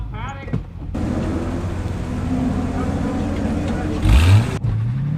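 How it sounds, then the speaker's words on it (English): Race cars driving at an autocross course in a south paddock, heard as a steady engine drone through the clip with a louder pass or rev near the end. "with that sound, you know the autocross is open on the south paddock."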